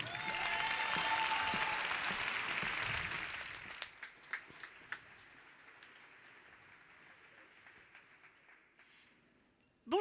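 Dense audience applause at a women's network forum, loud and sustained for about four seconds, then thinning to a few scattered claps that fade into near quiet before a brief burst at the very end.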